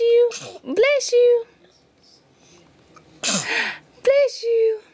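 An infant sneezes several times in quick succession, short bursty sneezes separated by a pause, close and clear, with an adult voice cooing and speaking between them.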